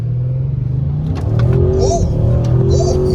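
An Audi RS7 launches hard from a standstill, its engine rumble swelling into a loud, rising roar that holds steady through the pull, with a voice exclaiming briefly over it.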